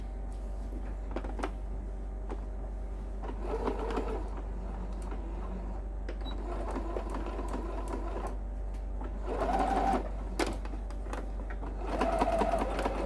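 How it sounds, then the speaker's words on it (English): Sewing machine stitching steadily along a large mountain retreat bag, a continuous close mechanical whir and needle chatter that swells slightly in places, with no talking. "I'm just stitching right alongside that bag without stitching on it."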